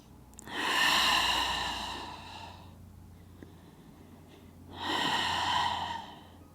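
Deep, slow breaths during a gentle yoga pose: a long airy inhale, a pause, then another breath, close and clear with no talk.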